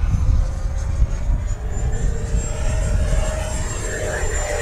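An FMS Viper 90mm electric ducted-fan RC jet makes a low presentation pass, its steady loud rushing whine sweeping past with a rising-falling tone, constant throughout with no talk.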